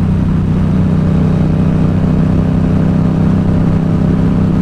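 Yamaha XSR700 motorcycle fitted with a Two Brothers SR1 exhaust, a steady deep engine drone running close and loud without a break, no talking.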